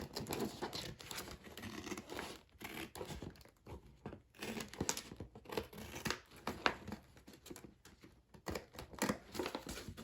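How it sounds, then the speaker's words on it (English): Paper edges torn from a patterned gift bag for a handmade journal cover, giving close, dry crinkling and ripping in repeated short bursts with brief pauses. "if we want to change it up, we can tear the edges just for some texture"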